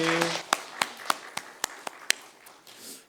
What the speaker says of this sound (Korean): 우리 하나님께 영광 박수 드리겠습니다.